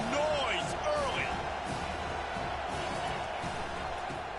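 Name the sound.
football stadium crowd cheering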